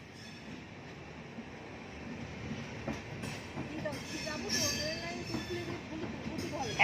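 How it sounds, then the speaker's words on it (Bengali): A train passing near Santragachi station: a low rolling rumble builds as the cars go by, with metallic wheel squeals and clatter rising toward the end. "ট্রেন যাচ্ছে দেখো, ট্রেন, ট্রেন।"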